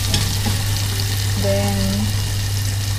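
Chicken wings fry in a pan and are stirred a little, making a dense, even sizzle close by with a low steady hum beneath and a brief faint tone partway through.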